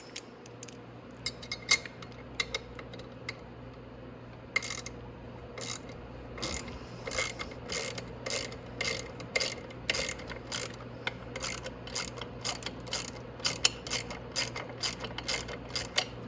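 A ratchet loosens bolts on the rear swing arm of a Venom 125cc Grizzly ATV, giving sharp, close clicking bursts in quick repeated strokes that grow more regular across the second half.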